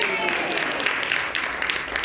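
An audience at a volunteer charity's award celebration gives soft, steady applause that sounds somewhat distant. A voice speaks faintly beneath the clapping.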